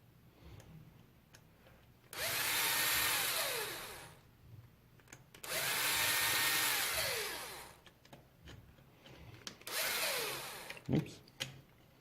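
A power driver runs screws into the front hinge pin covers of an Arrma Kraton V3 RC car, three close whirring bursts of about two seconds each separated by quiet handling clicks.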